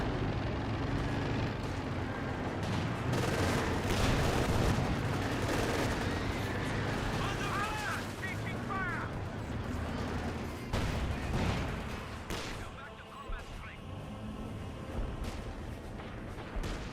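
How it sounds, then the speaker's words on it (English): Heavy artillery barrages in the strategy game Company of Heroes 2, a dense, rumbling wall of booming shell fire and crackling gunshots that stays loud throughout, with occasional sharper impacts. "Got some sort of artillery, major artillery on the top of the captured 50 cal."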